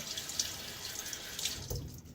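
Running tap water rinsing a Gillette Aristocrat safety razor over a tub, a soft continuous splash with a few brighter spatters, fairly quiet and without voices.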